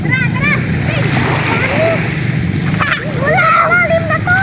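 Children bathing in sea water, with splashing mixed with kids' voices and chatter throughout; steady surf-like wash underneath, close and fairly loud.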